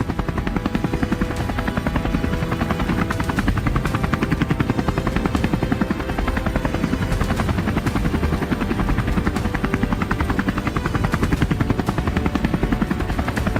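A helicopter flies over devastated farmlands during a wild boar hunt, its loud, rapid rotor chop pulsing evenly and continuously overhead without a break.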